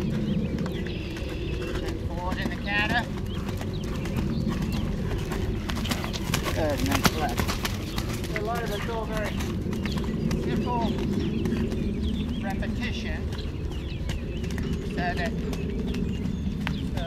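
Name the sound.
horse hooves cantering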